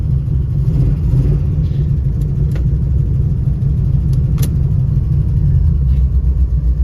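A Buick Regal with drivetrain trouble, having lost its forward gears, sits with its engine running in a loud, steady, close low rumble that holds evenly throughout.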